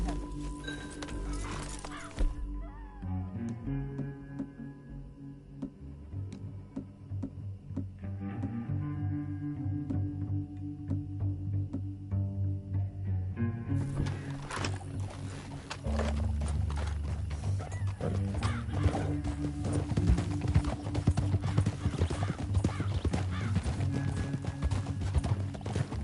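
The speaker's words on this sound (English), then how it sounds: "Back on your horse. Let's get after them." Horse hooves galloping in Red Dead Redemption 2, a continuous rhythmic clip-clop running the whole half minute under game music and effects, with a horse whinny early on and the pace growing louder in the second half.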